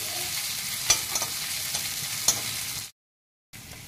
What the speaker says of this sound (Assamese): নহৰু আদা পেষ্ট। এইখিনি এতিয়া এনেকৈ অকণমান ভালকৈ ভাজি ল'ম